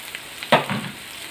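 Masala sizzles steadily in a pan as coriander, mint and curry leaves are stirred in for a Kozhikode chicken biryani gravy, with a sharp scrape of the spoon midway over the constant close frying hiss.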